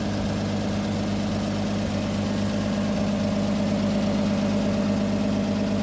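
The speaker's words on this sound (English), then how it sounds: "This thing runs great. You touch the key and it is running." Engine of a Parson backhoe for sale in Montana, idling steadily with a low, even rumble and mechanical vibration throughout, close and constant with no talk.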